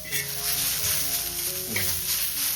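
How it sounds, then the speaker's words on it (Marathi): Chopped tomato sautéing in a pan for a Kokan-style chicken dish, a soft sizzle underneath tonal background sound, with no clear talk. "आता आपण आहे ना थोडासा एक टॅमॅटो कापलेला तो आणि तो मस्तपैकी परतवून घेऊया."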